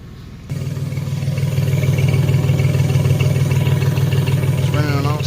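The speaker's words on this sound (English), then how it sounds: "It's running on all 6 now." A 1993 Chevrolet S10 Blazer 4x4's six-cylinder engine idles through dual exhaust with cherry bomb mufflers, a steady, deep, slightly uneven rumble, close and loud, and a voice briefly talks near the end.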